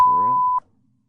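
A house phone gives one clean, steady electronic tone, loud and close, lasting about half a second before cutting off into quiet, heard while checking voicemail messages.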